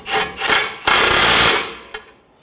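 Tightening a nut on the front hub of a 2006-2010 BMW 550i during a wheel bearing and hub replacement, heard as close, loud raspy ratchet-like grinding in bursts, with a long sustained run in the middle.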